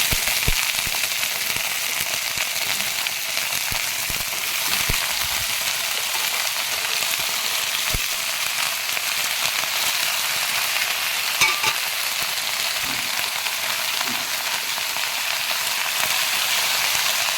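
Cut potatoes frying in a pan in a village kitchen, giving a steady, broad sizzling hiss that runs unbroken and fairly close throughout, with a few faint clicks and no voices.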